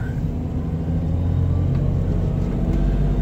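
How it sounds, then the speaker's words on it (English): A 1990 Toyota Land Cruiser driving in a low gear, with a steady deep engine rumble and drivetrain drone heard from inside the cabin, constant and fairly loud, no talking. "You can definitely hear the gears turning now."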